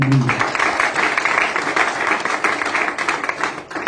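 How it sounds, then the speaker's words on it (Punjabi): A church congregation clapping together for Jesus, a loud continuous rattle of many hands that fades slightly toward the end. "ਪ੍ਰਭੂ ਯਿਸੂ ਮਸੀਹ ਦੇ ਲਈ ਤਾੜੀ ਮਾਰਾਂਗੇ"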